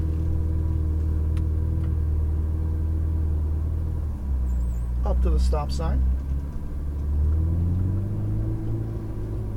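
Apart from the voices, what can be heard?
Ferrari 488 GTB engine while driving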